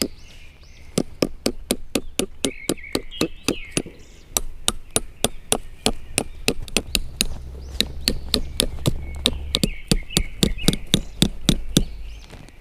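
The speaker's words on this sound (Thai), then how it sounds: "ก็ใช้สมอบกเนี่ยคล้องกับ เชือกด้านล่างนะครับ ก็ตอกลงไปเลย" Steady, sharp hammer strikes ring out close by as tent stakes are driven into the ground, about two per second, with a short pause partway through, then the pounding resumes.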